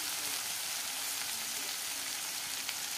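Weaver ant eggs fry in a pan, a continuous even hiss of sizzling oil with a few faint crackles, close and steady throughout, with no talking.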